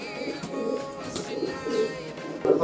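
Pigeons coo in soft, repeated low rumbling phrases with a few faint chirps, steady and fairly close, with no talk over them.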